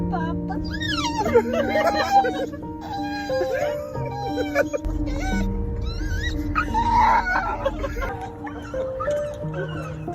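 Dog crying excitedly on reunion with its grandparents: high, wavering whines and yips rise and fall continuously, close and loud, with people's excited voices mixed in.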